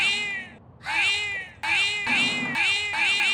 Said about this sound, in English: every few seconds you hear that damn Morgana buzz meow